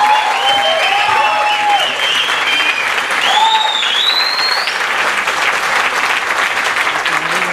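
Loud audience applause at the Fonoteca Nacional in Mexico for a rock band, dense continuous clapping with whistles and cheering cries ringing out over it.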